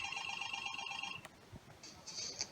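A telephone rings for a call on a quiz show: a bright electronic ring burst, a pause, then a second ring starting, fairly faint with no talking.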